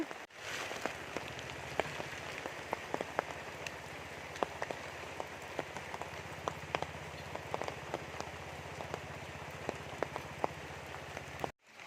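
Steady rain pattering on a surface, with scattered louder drops standing out against the constant wash.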